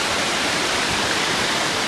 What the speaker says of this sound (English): Hopefully you can hear my voice over the roar of the water